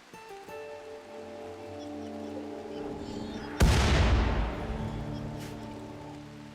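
Mortars fire in the video game Rimworld: a low rumbling build-up gives way to one sharp, loud boom that decays slowly over a droning ambient background.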